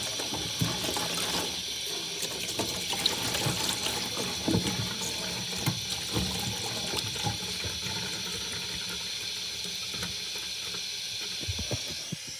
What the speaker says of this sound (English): And now I'm just gonna rinse it in this bucket of water.